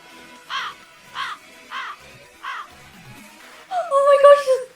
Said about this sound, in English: Oh my gosh, it's birds!